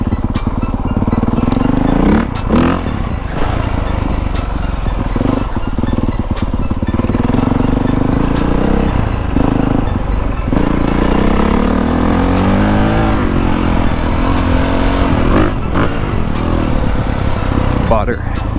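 A 450 motorcycle engine revs up and down continuously as it rides, loud and close, with wind rush and occasional speech underneath.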